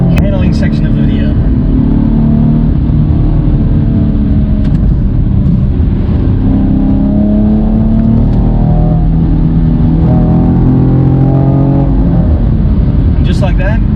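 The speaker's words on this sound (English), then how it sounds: "We are going into sport mode, which loudens your exhaust and weights up your steering a little bit for the handling section of the video." A 2016 Chevy Camaro 2LT V6 with a manual gearbox accelerates in sport mode, its exhaust a loud, continuous rumbling drone whose pitch climbs steadily, heard from inside the car while someone talks over it.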